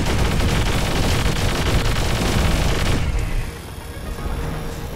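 Rapid gunfire and blasts from the War Robots mech combat game, a dense, loud barrage that runs continuously for about three seconds, then drops to a lower rumble with lighter shots continuing.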